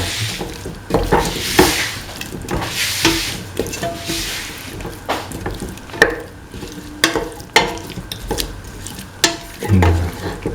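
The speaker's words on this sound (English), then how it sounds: "Mix the potato pieces." Potato pieces stirred and frying in a pan, steady sizzling under repeated scraping and clinking of a utensil against the pan, close and moderately loud.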